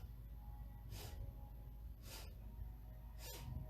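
Three short nasal sniffs drawn in through the nose at an even, slow pace during a quiet yoga breathing exercise, faint and close against low background hum, with no talking.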